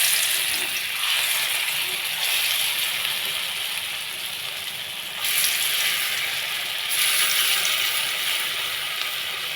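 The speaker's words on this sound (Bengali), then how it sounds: "এখন তেল গরম হয়ে গেছে, বড়াগুলো ছোট ছোট করে ভেজে নেব।" Small lentil fritters (bora) frying in hot oil, a steady, loud, dense sizzle that goes on for the whole time with slight swells in intensity.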